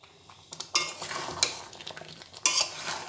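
Meat cooking in a pot in a home kitchen, stirred with a utensil that scrapes and clinks against the metal in irregular bursts over a steady low sizzle, close and moderately loud, with no talk.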